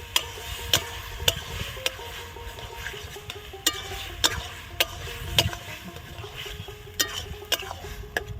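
Taro leaves and prawns being stirred and fried in a pan, with regular spoon ticks and scrapes against the metal roughly every half second over a low, steady sizzle, close and without talk.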